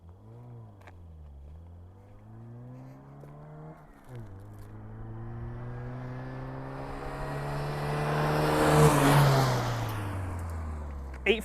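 A Foxbody Mustang with SR Performance coilovers charges through an autocross slalom, its engine note rising and falling steadily with each gate as it accelerates, building to a loud, rough peak near the end of the run.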